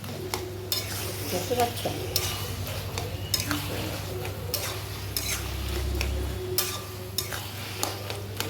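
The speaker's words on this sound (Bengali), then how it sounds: "চলো ওটা দিয়ে ভালো করে কচুর শাকটাকে মুজিয়ে নিই।" Taro leaves being stirred and sautéed in a frying pan: a steady sizzle with repeated scraping and tapping of a spatula against the pan, close and clear, with a brief spoken remark.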